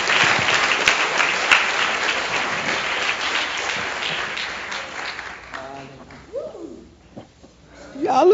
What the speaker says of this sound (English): Come on, clap your hands and tell him thank you.